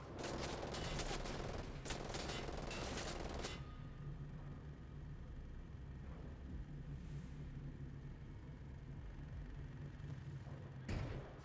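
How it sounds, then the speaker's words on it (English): Gunfire in Wolfenstein: The Old Blood: a dense, loud burst of rapid shots at the start, then rumbling ambience with a lone shot near the end. "He's shooting."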